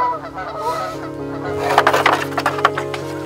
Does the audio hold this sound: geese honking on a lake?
yes